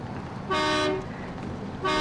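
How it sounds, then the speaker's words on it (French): Truck horn honking in the game Snowrunner, two loud, blaring toots about a second apart over a low rumbling engine, close and clear with no talking. "Donc là, on passe à fond et on klaxonne"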